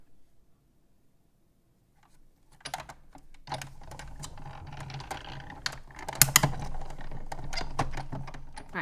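An electronic cutting machine cutting paper shapes held on a magnetic platform, starting after a quiet moment with a dense, close clatter of rapid ticking and whirring that continues steadily to the end.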